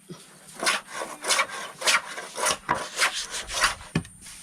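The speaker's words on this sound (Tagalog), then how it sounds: "Kayas-kayas at saka liha." Driftwood is scraped and sanded by hand in rhythmic back-and-forth strokes, roughly a dozen rasping passes close by, with a sharper knock near the end.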